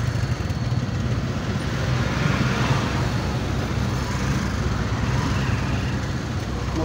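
Steady roadway roar of passing cars and motorbikes, engines droning continuously at close range with no voices.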